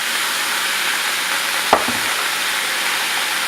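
Mushrooms frying in a pan for a beef teriyaki dish make a constant, fairly loud sizzle and hiss, broken once by a single short knock partway through.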